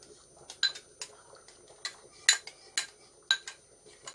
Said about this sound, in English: add a little bit of the soup to the tomato puree to loosen it up